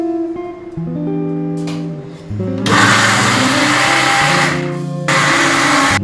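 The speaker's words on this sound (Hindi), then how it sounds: "ਮੈਂਗੋ ਪਲਪ ਨੂੰ ਅਸੀਂ ਮਿਕਸਰ ਗ੍ਰਾਈਂਡਰ 'ਚ ਐਡ ਕਰ ਰਹੇ ਹਾਂ, ਅਤੇ ਇਹਦੀ ਬੜੀ ਫਾਈਨ ਪੇਸਟ ਬਣਾਵਾਂਗੇ।" Mixer grinder blending mango pulp into a fine paste, a loud motor whine that cuts in and out in several bursts, mixed with a tonal musical line.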